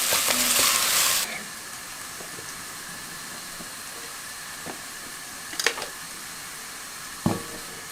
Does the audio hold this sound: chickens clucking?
no